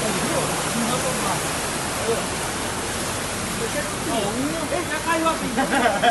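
Heavy rain pours down in a strong storm in Crateús, Ceará, a dense continuous rushing wash of water, with a person talking briefly over it.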